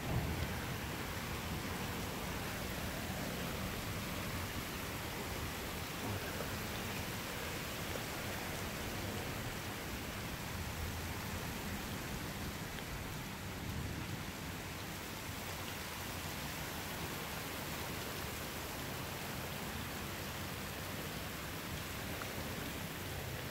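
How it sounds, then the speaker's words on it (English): Steady, dense hiss of rain falling continuously, broadband and even throughout with no voices, like a heavy shower close by. "Look at that rain, just starting to move in."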